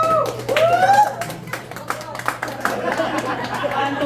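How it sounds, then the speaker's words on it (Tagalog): A crowd at a budots dance challenge during a breakfast ride shouts and claps for dancer number 1, with scattered applause and busy chatter under high whoops and whistles. "Palakasan ng sigaw tsaka palakpak."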